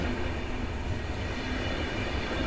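Railroad cars roll through Warszawa Wschodnia station, a steady, loud rumble of wheels and wagons filling the scene without pause and with no voices.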